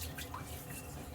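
Water drips softly at close range as a face is wetted before a lather shave, with faint, irregular drops and splashes over quiet room tone.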